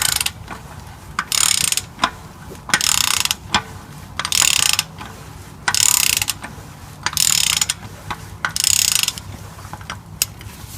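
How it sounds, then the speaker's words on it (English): A ratchet turns out the oil filter housing on a Toyota Sienna with a 2GR-FE V6. Bursts of rapid, close clicking repeat in steady strokes about every second or so, with short pauses between them and no talking. "So I'm just going to put my ratchet on it and we'll turn this out."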